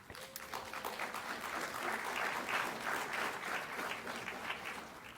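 Applause from an audience at a senior awards ceremony swells and holds steadily as honorees are called to the stage, fairly distant and moderate in level.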